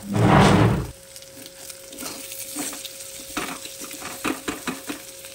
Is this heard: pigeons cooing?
no